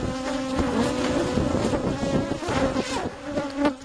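Close, dense buzzing of many bees during honey harvesting from a top bar hive in Uganda, loud and continuous with fluctuating pitch as insects move around.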